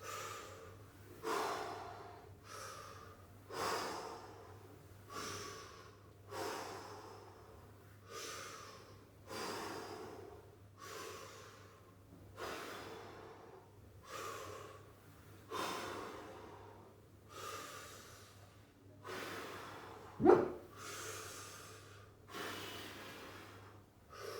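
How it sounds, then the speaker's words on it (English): Steady, deep breaths drawn in and let out slowly during a stretching cool-down after a dumbbell HIIT workout, about a dozen even breath cycles in a calm, regular rhythm with no talking. "Make that last breath really deep, really fill up the lungs and then breathe out nice and slowly."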